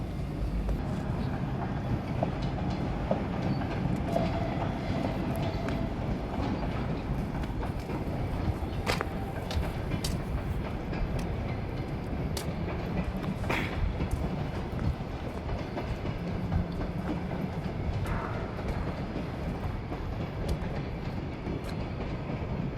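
A train at a Russian railway station used for train repairs, heard from a nearby bridge: a steady, loud rumble of rolling rail cars with occasional sharp clanks and faint background voices throughout.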